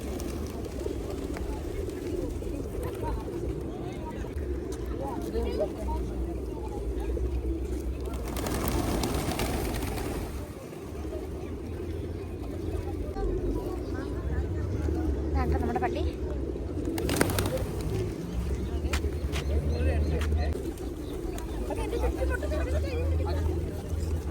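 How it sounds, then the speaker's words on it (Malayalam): Pigeons coo repeatedly in a church courtyard in Kazakhstan amid a murmur of crowd chatter and distant voices, with occasional louder rustles. "പള്ളിമുറ്റ നിറയെ പ്രാവുകളാണ് കേട്ടോ"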